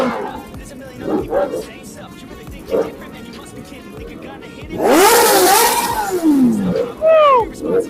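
A big motorcycle engine revs hard in a burst of roaring acceleration midway, followed by shorter rising revs, while people talk and a dog barks nearby before and between the revs.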